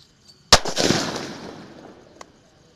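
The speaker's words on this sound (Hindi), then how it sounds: "बम को जला के देखते हैं कैसा फटता है।" A firecracker bomb is lit and bursts in one sharp, loud bang, followed by a crackling, hissing tail that fades over about two seconds, then a faint small pop.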